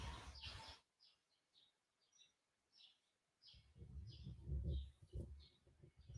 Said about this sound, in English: you hear the birds, y'all